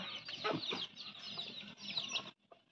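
Chickens and a rooster clucking nearby in a continuous, busy stream of calls, then a short pause and a couple of softer clucks at the end; no talking.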